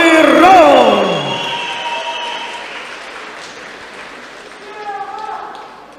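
Applause from the audience at a fight event in Irkutsk rises under an amplified, echoing announcer's voice, then fades into a lingering hall murmur before a brief swell.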